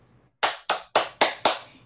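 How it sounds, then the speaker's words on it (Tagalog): Five sharp, evenly spaced hand claps ring out close and crisp during a live stream, each with a quick decay and no talk over them. "Isang palakpak para sa'yo."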